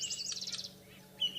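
A grey-headed bushshrike near a spotted eagle-owl nest gives quick, bright chirping calls, a rapid run of close notes followed by a short pause and one more brief call, with no one talking.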